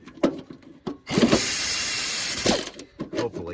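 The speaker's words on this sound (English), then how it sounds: "I'm going to get this air ratchet on" An air ratchet works on seized spindle bolts of a riding mower deck, letting out a loud, sustained pneumatic whir with hissing air for about a second and a half, set between sharp metallic clicks and knocks close by.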